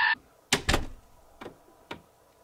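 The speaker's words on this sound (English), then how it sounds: "So the door closes easily. It latches good." A studio door fitted with new foam weather stripping swings shut with a quick double thud as it closes and latches, followed by two lighter clicks or knocks in a quiet room.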